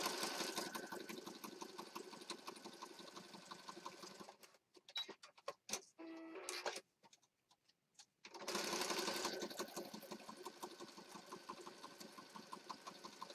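A sewing machine runs in steady fast rhythmic bursts with a quiet, close ticking whir, stops for a few seconds of scattered clicks and handling noises, then starts again and runs steadily to the end.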